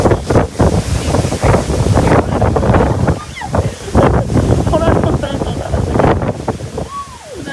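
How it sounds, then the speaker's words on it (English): Wind from Hurricane Ian gusts and roars across the microphone in a steady, loud rush with surges, while a person talks over it throughout. "oh, gust of wind's coming again."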